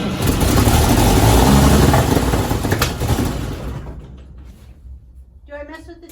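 A 1953 Chevy truck engine cranks and runs roughly with a loud, broadband rumble that gradually fades toward a lower idle, and a voice speaks near the end.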